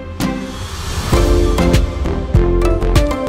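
Reversed crash cymbal crossfaded with its forward version in a music production transition, swelling up and then decaying, over a loud beat with thumping low drums and hits.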